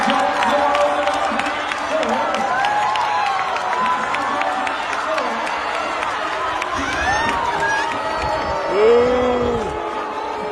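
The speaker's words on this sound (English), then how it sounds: "People are booing." Crowd noise fills a high school track championship venue, a sustained mass of voices and jeers with a swelling surge near the end, while an announcer's voice and scattered shouts cut through.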